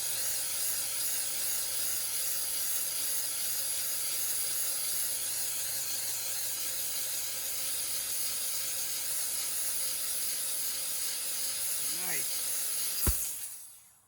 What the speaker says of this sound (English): Look at the section that I just hit with the steamer